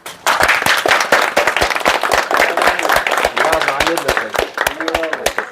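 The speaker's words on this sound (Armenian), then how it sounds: "Ծափեր" A group claps in a fast, uneven burst of sharp hand claps, loud and close, with voices talking and calling out through the applause.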